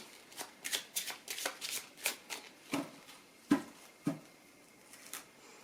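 A deck of tarot cards is shuffled and cut, making a run of quick riffling bursts followed by a few sharper single slaps, close and fairly quiet.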